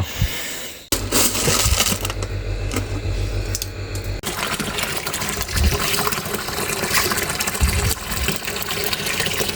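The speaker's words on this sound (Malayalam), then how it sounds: "നമ്മളിങ്ങനെ വെള്ളം പൊക്കി ചാടിക്കണം" Water gushes and pours steadily into a fish tank during cleaning, a loud continuous splashing rush close by, with a brief heavier churn near the start and no talking.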